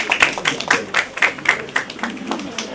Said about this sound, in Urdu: ایک بار بھرپور تالیاں ہو جائیں ہمارے یہاں.